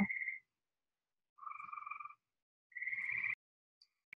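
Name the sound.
frogs croaking outdoors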